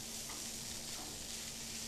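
Grated paneer sautés lightly in a pan, giving a soft, steady sizzling hiss that stays faint and even throughout, with no speech.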